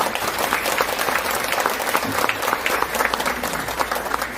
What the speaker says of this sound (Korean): 박수로 환영해 주셨습니다.